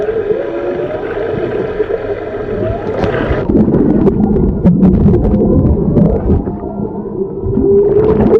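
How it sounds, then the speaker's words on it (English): Whale vocalizations recorded underwater while swimming with whales and sharks: loud drawn-out tonal moans and calls sweep up and down over a constant watery rumble. "Whale sound."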